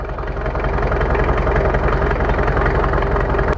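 A heavy tractor engine idles with a steady low rumble and even throbbing pulse, running continuously at close range without any talking.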